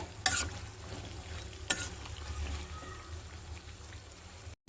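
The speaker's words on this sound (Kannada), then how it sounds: "ಫ್ರೈ ಮಾಡ್ಕೋಬೇಕಾಗತ್ತೆ ಇದನ್ನು ಚೆನ್ನಾಗಿ ಎರಡು ಕಡೆ ಗೋಲ್ಡನ್ ಬ್ರೌನ್ ಬರೋವರೆಗೂ ಫ್ರೈ ಮಾಡ್ಕೋಬೇಕು" Khara namkeen snacks deep-frying in hot oil, a soft continuous bubbling sizzle like light rain, close and faint with a couple of sharp clicks, and no talk.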